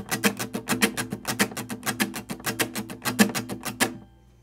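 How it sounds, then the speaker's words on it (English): Muted guitar strumming in a steady, percussive rhythm plays the choppy part from a song, with dense clipped strokes close up for about four seconds before it stops. "the next part is just like a muted kind of strumming pattern"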